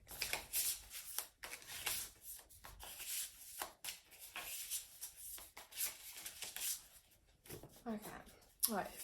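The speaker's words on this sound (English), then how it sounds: "Just shuffling for you, Gemma." Oracle cards shuffle by hand in repeated quick riffling bursts, close and crisp, with a voice speaking softly between them.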